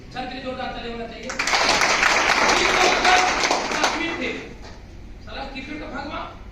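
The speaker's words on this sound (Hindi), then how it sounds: "सर के लिए जोरदार ताली होना चाहिए" A seminar audience in Dumka bursts into loud, sustained applause for the speaker, the clapping rising between stretches of someone talking and then fading back under his voice.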